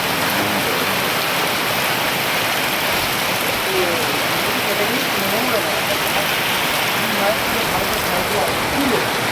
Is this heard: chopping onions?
no